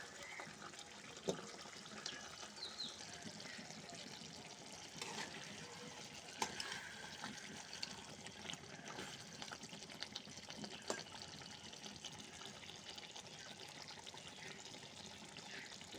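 Water poured into a pan of liver cooking into a Bengali liver bhuna, giving a steady trickling and splashing wash with occasional drips and sizzle, fairly faint and continuous throughout with no talk.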